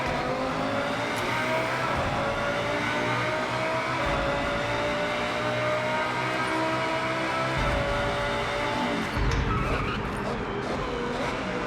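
An Acura NSX Type S races in Forza Horizon, its engine droning steadily and loudly with rising and falling pitch as gears change, plus tyre noise and a brief surge near the end.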